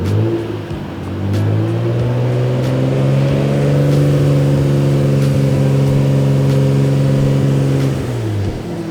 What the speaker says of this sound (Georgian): გავატაროთ მანქანა.